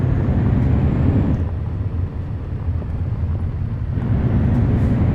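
A loud, steady low rumble of a car rolling over a rough dirt road near Athens, with continuous rattling vibration and a slight dip in intensity midway.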